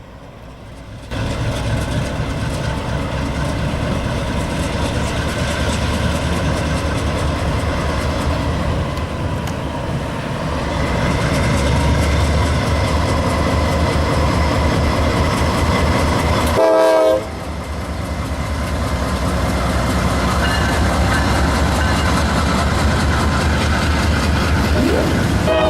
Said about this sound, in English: we first saw a northbound NS intermodal train as it was preparing to depart